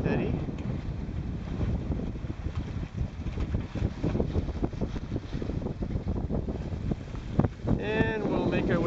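A sailboat making way under a Hydrovane self-steering gear on the transom, with steady wind rush and buffeting on the microphone and water noise around the hull throughout.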